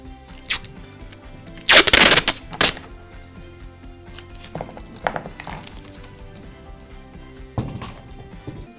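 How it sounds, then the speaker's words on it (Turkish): A 200 gram hammer tapping nails for string art, heard as sharp metallic knocks: a loud cluster of strikes early on, then lighter scattered taps through the rest, close up over a faint steady background. "200 gramlık bir çekicimiz var."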